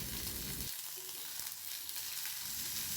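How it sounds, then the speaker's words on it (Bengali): Whole mustard, fenugreek, cumin and radhuni seeds fry with ginger paste and a pinch of asafoetida in hot oil, giving a steady close crackling sizzle that stays loud and continuous with no talk. "এবারে সব কিছু একসাথে ভেজে নেব।"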